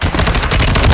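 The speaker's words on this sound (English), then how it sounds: "Holy shit, it shot a rocket at me." A rocket fired in the video game Call of Duty, heard as a loud burst of dense explosive crackle filling the whole second, with booming low end throughout.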